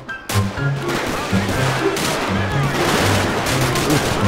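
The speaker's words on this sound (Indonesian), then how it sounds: "Dari mana nih tembakannya nih?" Dense gunfire from several weapons in GTA 5 on an Indonesian police mod, with rapid automatic bursts and single shots crackling nonstop and loud throughout a firefight.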